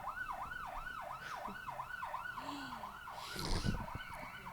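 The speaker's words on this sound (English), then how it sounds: "wow, there's an ambulance." A wailing ambulance siren cycles rapidly up and down at moderate distance, with some street noise and a brief clatter near the end.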